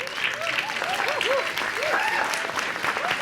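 Audience applause at a Bernie Sanders speaking event, a steady, full wash of crowd clapping throughout, with faint voices and whoops mixed in.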